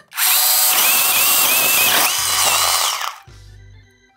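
A loud chainsaw roars close up for about three seconds, its pitch bending as it cuts, then jams in the wood fibres, cuts out and briefly idles before stopping.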